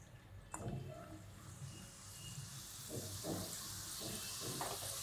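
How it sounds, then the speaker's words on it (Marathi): Sev, gram-flour noodles, deep-frying in hot oil over a low flame: a soft, steady sizzle with faint bubbling and a few brief crackles, heard close but quiet. "आता तेल गरम झाले, आता मी तळून घेते।"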